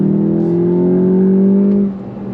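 A 2024 Volkswagen GTI 380 with a manual gearbox revs under hard throttle, a loud, close engine note climbing steadily for nearly two seconds before easing off.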